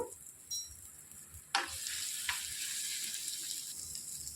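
Dry red chilli pieces and asafoetida fry in hot oil as a tempering for raw mango pickle, a couple of sharp crackles followed by a steady, soft sizzle that carries on quietly to the end.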